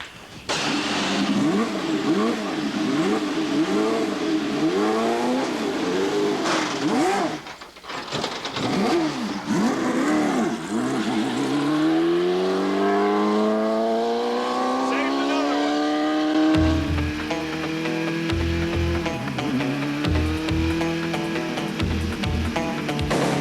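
An Indy car at Penske Racing roars loudly around the track, its engine rising and falling through repeated revving sweeps as it passes close and accelerates, with no voices over it.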